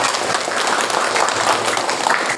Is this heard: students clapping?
yes